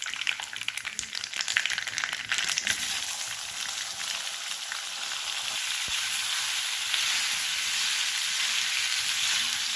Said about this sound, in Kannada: ಇವಾಗ ಇದು ಚೆನ್ನಾಗಿ ಫ್ರೈ ಆದಮೇಲೆ ನಾವು ಈ ಸಮಯದಲ್ಲಿ ನಾವು ಸುಳಿದಿಟ್ಟಂತಹ ಅವಳನ್ನು ಹಾಕ್ಕೊಳ್ಳೋಣ.